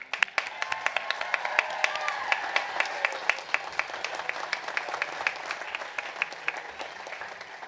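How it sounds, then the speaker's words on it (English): An audience at the 2018 Fairfield University graduate commencement stands and applauds the faculty, a steady patter of many hands clapping throughout, moderately distant and even, with no speech on top. "please rise and acknowledge with applause your appreciation for your faculty as teachers, advisors, and mentors"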